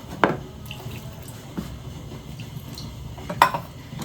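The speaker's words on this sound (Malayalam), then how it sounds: "നമുക്ക് പാകത്തിന് കുറച്ച് വെള്ളം കൂടി ഇതിലേക്ക് ചേർത്ത് കൊടുക്കാം." Water is added to a pot of sambar with vegetable pieces and curry leaves in a home kitchen, a soft running pour under low background noise, punctuated by two sharp metallic clinks of pot and utensil.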